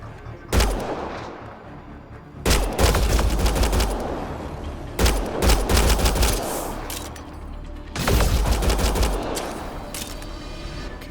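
Loud bursts of gunfire in the video game Mass Effect Andromeda come in four heavy volleys of rapid shots with booming low impacts, separated by brief lulls, close and with no talk.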